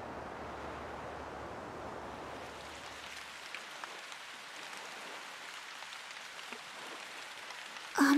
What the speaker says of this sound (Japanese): 雨だ。